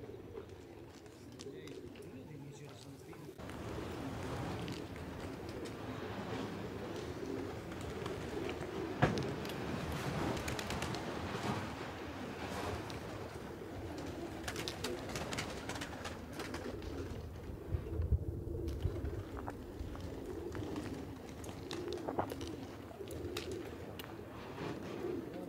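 Pigeons at a loft in Kozani, Greece, coo steadily close by across the whole stretch, with shifting background noise and occasional louder bumps.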